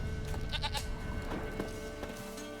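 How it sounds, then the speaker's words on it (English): A goat bleats in The Witcher 3, giving a few wavering, nasal cries close by over a busy background, the calls breaking into short quavering pulses before trailing off. "Here, goat."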